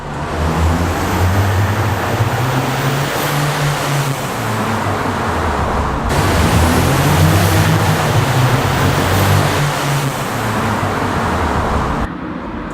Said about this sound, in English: it was mostly to hear the whistle and the dump valve